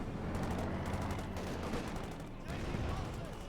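Gunfire in the World War II strategy game Company of Heroes 2, with dense, continuous crackling shots and rattling bursts layered over battle noise, under an ongoing commentator's voice.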